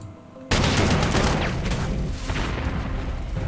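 Heavy gunfire erupts suddenly as units attack a tank in the WWII strategy game Panzer Corps 2, a loud sustained barrage of rattling shots and booms that keeps going after the abrupt start.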